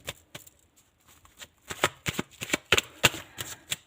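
Tarot cards being shuffled by hand ahead of drawing one final card: a run of crisp riffling bursts and soft slaps, sparse at first and then quicker and louder, close up with no talking.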